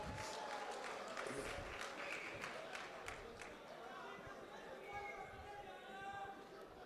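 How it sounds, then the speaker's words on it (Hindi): Applause and clapping from an audience mixed with crowd chatter at a poetry recital, a steady dense patter of claps that stays lively throughout. "तालियां आनी चाहिए भाई, वाह वाह वाह।"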